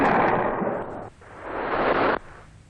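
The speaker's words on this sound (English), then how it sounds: "The RPG-7 is fired against the chain link." A 1960s RPG-7 rocket launcher fired at a chain link screen set in front of a target: two loud, broad bursts of blast noise, each lasting about a second, with a near, abrupt onset and no voices.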